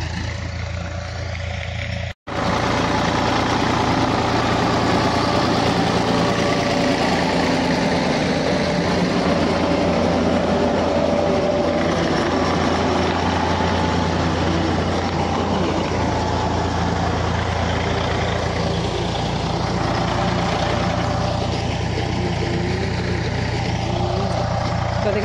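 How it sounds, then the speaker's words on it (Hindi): Tractor ploughing a farm field after seed has been sown, its engine a steady, loud, continuous drone throughout with a brief cut near the start, heard alone without talk. "हो रही है खेती की जुताई।"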